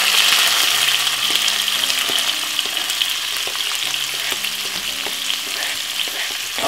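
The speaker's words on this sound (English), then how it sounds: "I'm just gonna simple fry off my white onion and all of my tomato" White onion and tomato fry in vegetable oil with a dense, even sizzle, close up, broken by light clicks and scrapes of stirring; faint music runs underneath.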